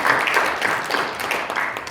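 A church congregation claps together in a short burst of steady, dense applause.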